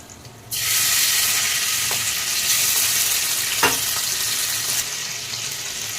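Water poured into a hot dhokla tempering sets off a sudden loud burst of sizzling that stays strong and hissing, with a couple of light utensil clinks, after a quieter simmer at the start.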